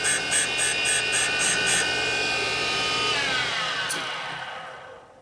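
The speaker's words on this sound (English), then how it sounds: "See, that's not grinding evenly." A valve grinding machine works a Harley FXR valve, giving a steady, loud whirring drone with a high whine and rapid pulsing near the start, the pitch sliding down and fading near the end as the machine spins down.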